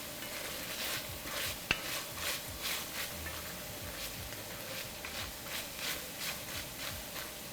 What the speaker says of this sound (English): Okay, we're sizzling